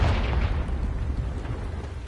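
A Confringo blasting curse from Hogwarts Legacy goes off as a deep, rumbling explosion, loud and sustained through the whole moment with heavy low-end boom and no talk over it.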